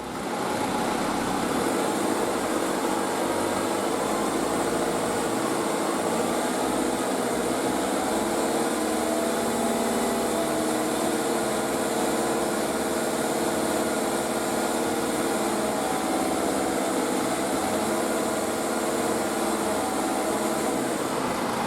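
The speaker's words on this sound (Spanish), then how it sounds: "Encendemos las luces y ponemos a 2000 revoluciones el motor." A car engine holds steady at 2000 rpm with the lights switched on during an alternator check, a continuous even hum and whir without change throughout.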